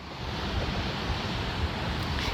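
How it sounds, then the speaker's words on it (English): Steady, broadband ocean surf, rolling waves washing in continuously and fairly close, with no breaks and no voices. "Listen to the ocean."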